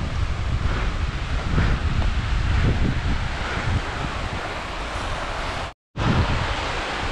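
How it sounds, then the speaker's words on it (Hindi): Rushing snowmelt water near Sonmarg in Kashmir in summer, a loud, steady broadband roar of flowing water mixed with wind buffeting, continuous throughout apart from one brief dropout. "पानी का शोर हो जा रहा है"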